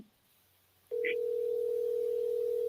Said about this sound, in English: I can hear her phone ring.